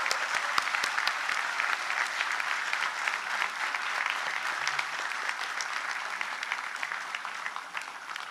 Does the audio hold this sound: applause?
yes